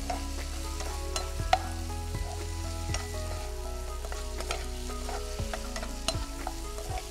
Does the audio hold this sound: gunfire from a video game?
no